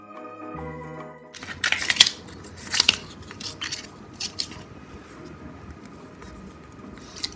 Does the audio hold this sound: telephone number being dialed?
no